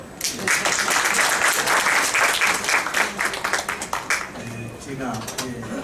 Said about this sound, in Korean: 박수 크게 한번 주십시오.